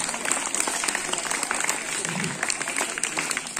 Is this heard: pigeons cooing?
no